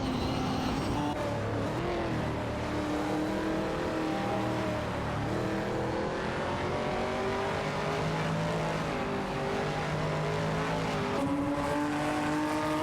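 Engines of racing cars in a video game, a Porsche 718 Cayman GT4 and an Aston Martin Vantage GT4, drone continuously and rise and fall in pitch through gear changes, with other cars layered in the mix.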